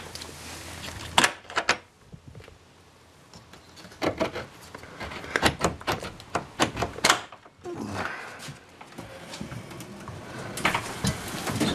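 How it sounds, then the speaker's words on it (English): A door is opened in a series of irregular knocks, thumps and scraping rubs, with clustered sharp hits in the middle and quieter gaps between, no voices over it. "let me open up this door"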